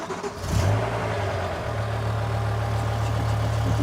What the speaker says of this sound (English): I want you to listen to the engine start up.